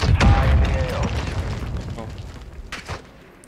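An RPG explosion in a video game gives a loud, deep boom at the start that fades into rumbling battle noise, with a second burst of impact later on.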